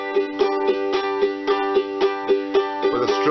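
A ukulele strums a rock and roll train rhythm played straight, evenly spaced chord strokes repeating steadily up close, with a slightly busier flourish near the end and no voices.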